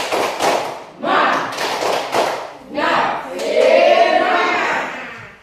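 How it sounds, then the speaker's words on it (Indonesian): Schoolchildren in a classroom perform a rhythmic spirit clap, bursts of clapping and thumping in short patterned groups mixed with their chanting voices, close and loud. "Jadi kita mulai tepuk semangat. Tepuk semangat."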